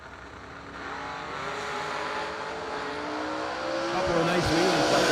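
Drag racing cars launch and lift into wheelies, their engines roaring loud and rising steadily in pitch, with a pass swelling near the end while an announcer talks over the noise.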